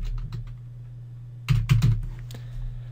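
Close keystrokes on a computer keyboard while entering data into a spreadsheet, a few light taps then a quick cluster of firmer presses over a low background hum.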